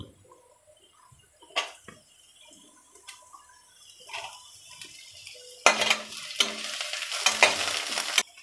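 Onions, carrots and green chillies fry in a pan. Quiet spoon knocks and stirring come first, then a louder sizzle and scraping picks up partway through and keeps going.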